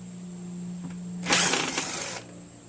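Torque bolts on the transmission gearbox of a Craftsman 6HP Briggs Quantum lawn mower are loosened, giving a brief, loud burst of ratcheting and metallic clicks lasting about a second over a steady background hum.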